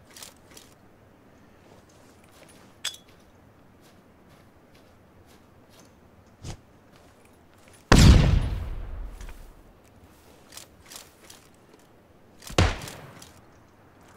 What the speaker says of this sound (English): He's shooting at me. He's got some type of bolt action.